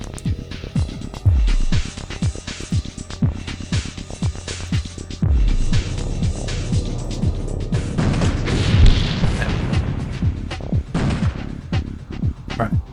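An explosion blasting a hole in a wall in the tactical game X-COM Apocalypse, amid a dense run of repeated thuds and booms with falling-pitch drops, loud and rapid throughout, with a player talking over it.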